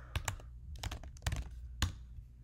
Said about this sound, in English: So we can try to type something